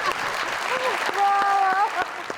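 Applause from a live audience at a poetry or ghazal performance stage show, a steady patter of clapping that runs for about two seconds under and around a speaking voice.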